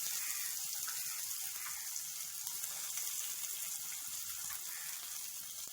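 Mustard seeds and chopped garlic frying in a spoonful of oil in a pan on the stove give a faint, continuous hiss and crackle with a few small pops, quiet and without talk.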